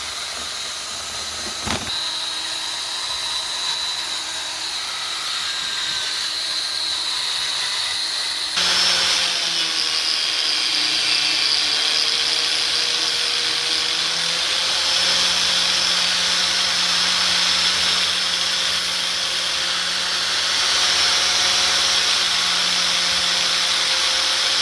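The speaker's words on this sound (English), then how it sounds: "Do a little porting and polishing here." A handheld power tool grinds while porting and polishing Chevy 283 cylinder heads: a steady whirring whine that stops briefly, then restarts and continues with shifting pitch, close and alone.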